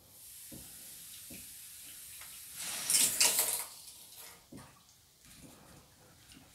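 Water at about 6 bar is let into soldered polypropylene pipes, some with overheated joints, giving a steady hiss that swells into a loud spraying rush, then eases back into a softer hiss with a few small knocks.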